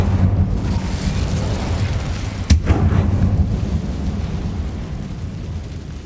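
Incendio fire spell cast in Hogwarts Legacy, a single sharp crack followed by a brief whooshing burst over a loud, constant rumbling background, with no talking.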